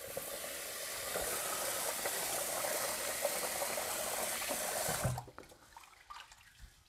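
Tap water runs steadily into a bowl of rice being rinsed for sushi, a loud continuous hiss and splash that stops abruptly, followed by faint trickles and small knocks.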